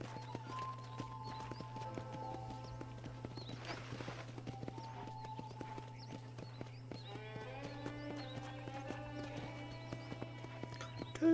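Horse hooves clip-clopping on a ranch in the Red Dead video game: steady rhythmic hoofbeats over a constant low hum, with faint tonal game music and ambient sounds, no talk.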